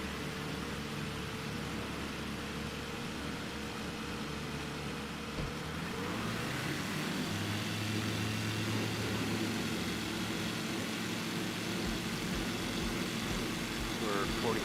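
An ICON A5 light amphibious aircraft in Microsoft Flight Simulator 2020 drones steadily as its engine rises in pitch during a no-flaps takeoff from a runway near Winnipeg, continuous and loud for the whole stretch, with a voice talking over it.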